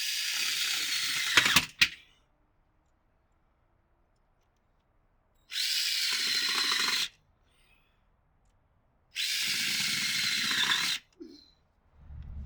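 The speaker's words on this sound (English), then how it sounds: "you can go ahead and drill it with the drill motor" Three bursts of a power drill boring through plastic Adirondack chair pieces clamped together, each lasting about a second and a half to two seconds with silent gaps between, steady and close.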